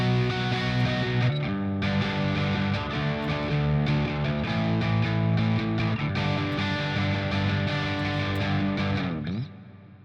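Loud, crunchy distorted electric guitar power chords played in a steady sequence of shifting shapes, ending with a final chord that stops abruptly.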